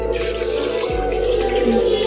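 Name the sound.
water poured into soaked rice for biryani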